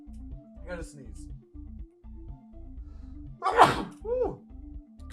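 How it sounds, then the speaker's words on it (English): A single sharp human sneeze bursts out midway through, preceded by a quick intake of breath, over a rhythmic electronic puzzle-game soundtrack of repeated low pulses and blips. "I gotta sneeze."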